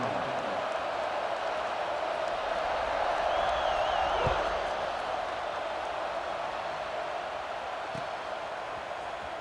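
A stadium crowd in the EA Sports College Football 26 video game roars steadily before kickoff, a dense, constant wash of cheering with a brief whistle-like call rising over it and a game commentator speaking.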